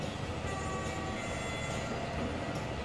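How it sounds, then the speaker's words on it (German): A locomotive horn in the railway simulation game Transport Fever 2 sounds over a steady, dense rumble of a passing train, held continuously for a few seconds with no talk. "Oh, das Horn."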